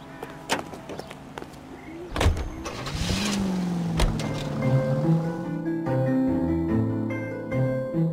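A car in the video game L.A. Noire: door thuds, then the engine starts and revs up, settling into a steady rising drone as it pulls away, with no talking.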